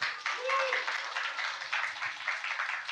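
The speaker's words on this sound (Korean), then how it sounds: "여러분 큰 박수 부탁드립니다." A studio audience claps to welcome a magazine editor guest on a Korean film talk show, a moderate, fairly soft burst of applause with a voice briefly audible over it.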